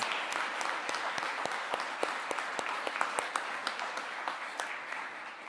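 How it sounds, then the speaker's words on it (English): An audience claps at a student literary awards ceremony, a sustained round of applause with distinct sharp claps audible throughout, moderately loud and steady, slightly fading at the end. "please join me in giving another big round of applause to all of our Young Writers Showcase authors"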